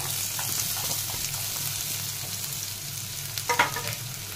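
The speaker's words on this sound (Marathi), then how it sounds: "कांदा आपल्याला स्लो गॅसवर छान असा परतून घ्यायचा आहे" Onion sizzles in hot oil over low heat, a soft continuous fry under scattered stirring scrapes, with a few louder clinks of the spoon against the pan near the end.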